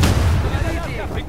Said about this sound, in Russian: О, граната.